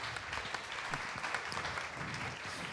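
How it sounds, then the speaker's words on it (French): Audience applause for a speaker at a French debate on energy and agriculture in the transition, a steady dense patter of clapping hands that fills the whole stretch at moderate loudness with no voices over it. "on peut déjà applaudir Eric pour cette introduction qui pose les bases"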